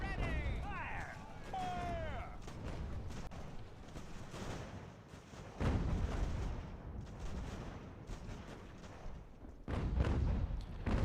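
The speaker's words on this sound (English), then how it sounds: "that artillery has at least helped" Heavy artillery booms roll in from the strategy game Ultimate General: American Revolution, a few deep blasts spaced seconds apart under continuous battlefield noise, with a voice talking over it and a brief rising whistle early on.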